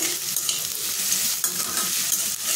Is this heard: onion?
yes